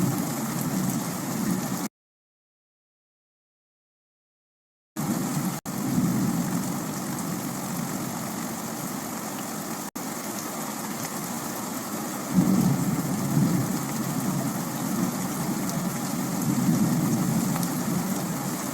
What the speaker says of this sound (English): At this point, we have lightning, we've got thunder. We have the sound of rain